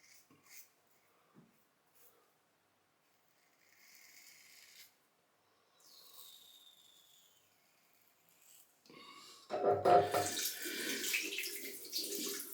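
A Muhle R96 Rocca safety razor is rinsed under a running tap, with faint splashes early on, then a louder, steady gush of water toward the end.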